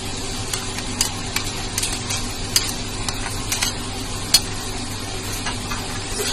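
Spiced masala being roasted with black chickpeas in a pan, a steady sizzle under scattered sharp ticks and scrapes of stirring, close and fairly loud, with no voices.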